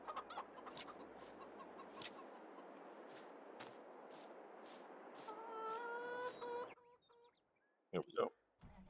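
Farmyard chickens, part of a batch of forty newly bought birds, cluck in bursts over steady outdoor background noise, with a few sharper calls near the end.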